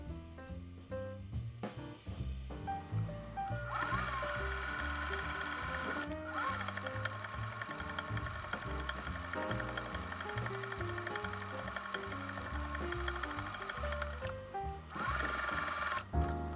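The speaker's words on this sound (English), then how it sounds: "I also did the top stitching on the band." A sewing machine top stitches the band of a visor hat, running in a fast, steady mechanical whir after a few short stop-start bursts, close and clear, with a brief pause midway and another near the end.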